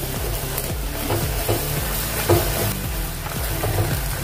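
Chopped onions sizzling as they fry in a pan, a continuous crackling hiss with irregular pops and small stirring knocks throughout, close and alone.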